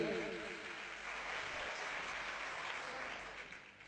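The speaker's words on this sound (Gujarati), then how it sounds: "આપણે એમને જોરદાર તાળીઓથી વધાવી લઈ" Audience applause at a bhajan gathering in Mumbai, a dense steady clapping from a crowd lasting several seconds before gradually easing off.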